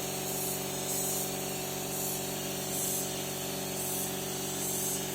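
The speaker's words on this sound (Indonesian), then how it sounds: "Ini proses penyemprotan lagi ya. Tadi awal disemprot, diamplas, ini disemprot lagi." A spray gun hisses continuously, applying a melamine coating to wood after sanding, with the hiss swelling and easing in gentle rhythmic pulses.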